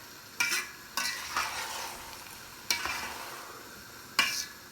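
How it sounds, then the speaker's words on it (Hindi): White rice for mutanjan, a sweet Pakistani zarda, stirred in a pot, four separate scraping strokes at uneven intervals, each starting sharp and trailing off over a soft sizzle, close by with no talk. "अब हम चावलों को ऐड कर देंगे।"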